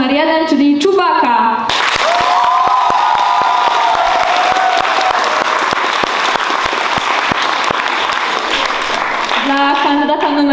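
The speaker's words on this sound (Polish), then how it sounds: "Proszę o brawa publiczności dla kandydata numer 1, czyli Czubaka." Loud, dense applause and some cheering from a school audience at a welcome event for first-year classes fill most of the stretch, with a voice talking briefly before and after.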